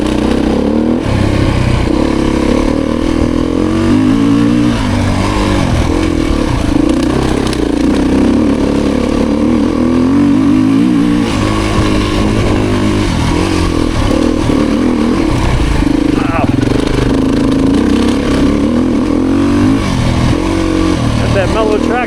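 A Beta 350 RS four-stroke dirt bike runs steadily under load on a trail ride, its engine droning loud and close for the whole stretch, with small surges as the throttle changes.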